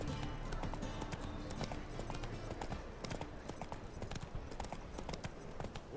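Hooves of Roach, Geralt's horse in The Witcher 3, clip-clopping at a quick steady pace throughout, fairly close, with a faint wash of game background.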